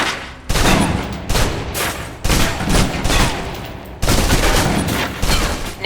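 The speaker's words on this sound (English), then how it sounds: "Now, let's move on to the submachine gun. Now let's empty the clip." Submachine gun firing a full magazine in the shooter game Protocol Alpha: loud, continuous bursts of rapid automatic fire with short gaps between sustained volleys, close and dominant.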